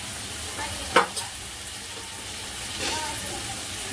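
Spices are stirred into dal khichdi in a pot, giving a low, wet stirring rustle with a sharp spoon knock near the start and a smaller one after it.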